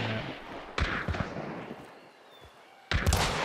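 Gunfire in the video game Hunt: Showdown sounds as two booming shots a couple of seconds apart, loud and close, over a steady rumbling game ambience.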